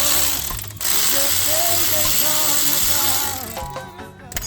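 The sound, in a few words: ratchet removing brake caliper bolt on Vauxhall Mokka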